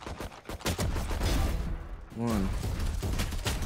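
Gunfire from the video game Valorant, a burst of sharp shots with a thudding impact, heard alongside someone speaking briefly in the middle.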